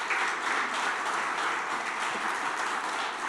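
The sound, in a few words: congregation applause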